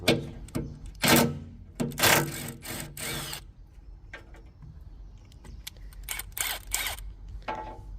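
Bolts holding a Franna crane's cab to the front guard being undone with a power tool, several loud bursts of whirring and rattling with short pauses between, up close and mostly without talk.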